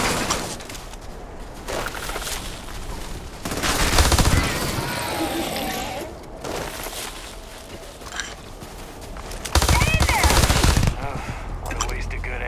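Bursts of game gunfire from Starfield rattle through the whole stretch, loud and repeated, with heavier volleys near the middle and again toward the end.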